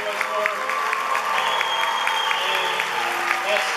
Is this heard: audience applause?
yes